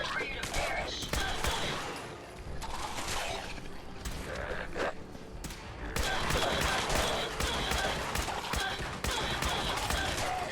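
Rapid, repeated gunfire bursts in the video game Fallout 4, dense crackling shots and mechanical clatter running throughout at steady loudness, with a player's voice heard over parts of it.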